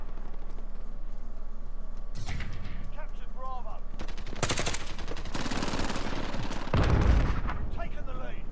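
Bursts of gunfire in Modern Warfare multiplayer, with several loud rapid volleys and heavier blasts spread across the clip over game sounds and a faint keyboard clatter, with voices heard now and then.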